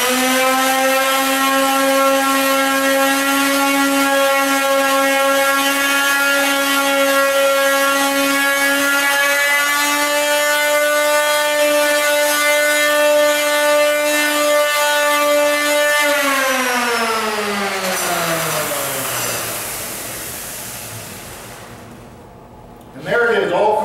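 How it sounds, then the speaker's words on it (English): A small electric palm sander cleans iron marks off wood edge banding, its steady motor whine holding close and loud before spinning down to a stop near the end. "You may want to just take your little palm sander and clean that up a little bit."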